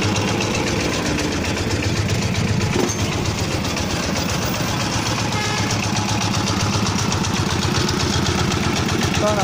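A Yanmar YC7-S single-cylinder diesel engine idles steadily and close by, a continuous low rhythmic chugging with an even, unbroken beat from start to finish.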